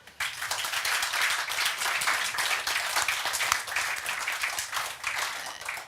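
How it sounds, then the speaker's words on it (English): A panel audience bursts into warm, sustained applause, dense clapping from a sizable crowd that stays steady for several seconds, with no talking over it. "A warm applause."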